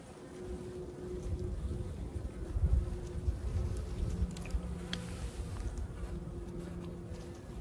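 Many honey bees buzz in a hive in a dense, droning hum up close, rising and falling slightly in loudness without pause.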